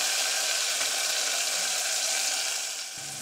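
Tomato mixture frying in a pan for gavar bhaji, a steady dense sizzle running throughout without clear stirring strokes, easing slightly near the end with no talking.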